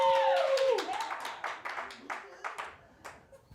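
Audience clapping at a live comedy show, a quick burst of claps that thins into scattered claps, with a voice talking over the start.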